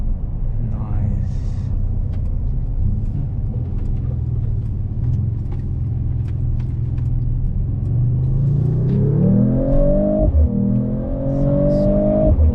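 A 2026 Mercedes-Benz CLE 53 AMG engine drones low from inside the cabin, then climbs in pitch as the car accelerates, with a brief gear-change dip before rising again, while people talk over it.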